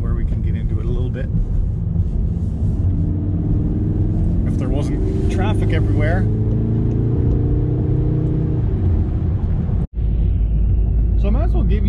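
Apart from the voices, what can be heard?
Volkswagen MK7.5 Golf R engine accelerating on on-ramp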